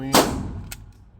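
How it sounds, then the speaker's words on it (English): A metal magazine clacks sharply into a 2011-style pistol, one loud close impact followed by a second lighter click, with no talk over it. "And we'll stick with the Checkmate Free Armory branded mags. Yeah, these go in,"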